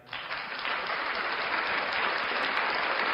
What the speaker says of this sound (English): Nice big round of applause for you all, eh?